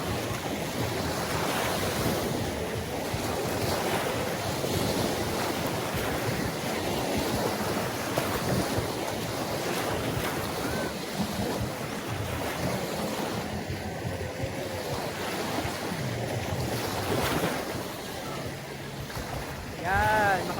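Sea waves break continuously on a beach at Unisan Sands in Quezon, with steady wind buffeting the microphone and a constant surf roar the whole time.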